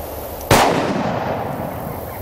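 A single sharp gunshot fired at an alligator during a hunt, loud and close, followed by a fading outdoor echo.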